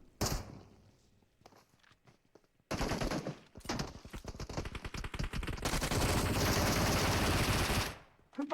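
Gunfire in PUBG, with sparse single shots and scattered clicks giving way to a loud sustained burst of automatic fire that rattles on for several seconds before cutting out, then one more shot.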